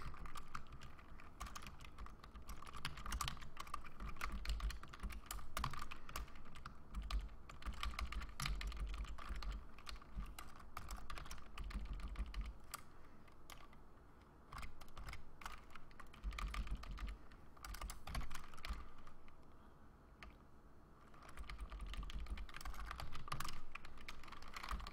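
Steady typing of code on a computer keyboard, with dense, continuous clicking keystrokes close to the mic and brief pauses throughout, no talking.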